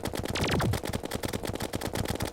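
Ichor bullets fired in rapid succession in Terraria during a boss fight, a steady stream of quick, evenly spaced shots with a sweeping descending effect early on.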